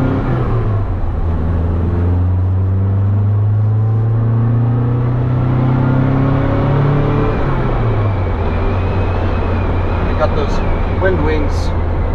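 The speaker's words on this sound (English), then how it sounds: "I believe it produces about 90 horsepower and it loves to be revved" A 1970 Lancia Fulvia rated at about 90 horsepower drones along on a drive, its engine note rising and falling through the revs under steady road and wind noise, with a faint voice mixed in.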